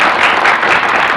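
A brief, loud burst of dense clapping from an audience at a lecture, a continuous wash of applause with no break.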